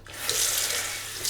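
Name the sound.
water from tap wetting a shaving brush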